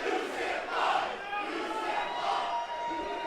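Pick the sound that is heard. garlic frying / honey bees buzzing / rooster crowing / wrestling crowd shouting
wrestling crowd shouting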